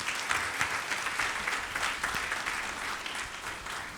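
A church congregation claps to acclaim the Lord, with dense, steady applause filling the room for several seconds at an even level.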